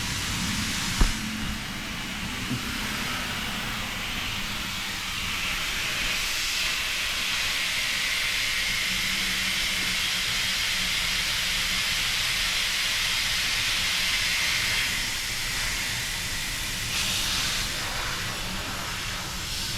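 Air hisses steadily from a leaking DIY air shock on a 1965 Ford Falcon, a constant close broadband rush lasting throughout with a small knock near the start and no talk.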